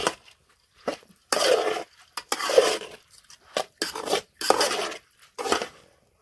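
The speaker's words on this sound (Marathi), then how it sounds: "आई आता गोंधळीच्या फुलवऱ्याला परतून घेत आहे." Gondhni flower buds are stir-fried in a metal pot: separate bursts of scraping and rubbing from a spoon against the pot, close by and spaced out, with quiet pauses between strokes and no voices.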